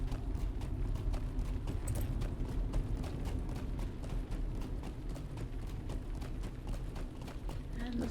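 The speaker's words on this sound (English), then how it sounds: "And I think we can get back on our horse." Horse hooves clip-clop in a steady riding rhythm in the Lord of the Rings Online game's northern Barrow-Downs, moderately loud, with the beat carrying throughout under a speaking voice.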